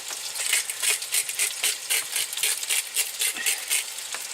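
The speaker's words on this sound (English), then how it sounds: "I'm just gonna brown my chicken" Chicken pieces browning in a cast iron skillet inside a van, giving a steady crackling sizzle with pulsing bursts of spatter throughout, no voices.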